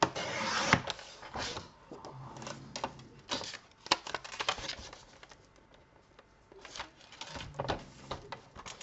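Paper is cut for a handmade card folio, a quiet series of scattered scraping and snipping clicks with soft pauses between strokes, close and alone.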